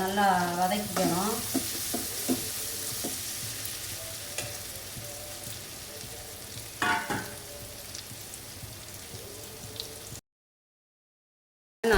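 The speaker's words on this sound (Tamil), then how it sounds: "நல்லா அப்படியே பொன்னிறமாக நல்லா வர வரையும் நல்லா எண்ணெயில் நல்லா வதக்கிக்கணும்" Raw banana slices frying in oil in a pan, a steady close sizzle with occasional stirring knocks and scrapes, cutting off to silence near the end.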